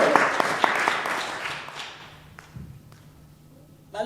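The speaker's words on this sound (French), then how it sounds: "Acclamez pour la gloire du Seigneur." A church congregation claps in a burst of scattered applause that fades away, with a few louder individual claps and some background voices.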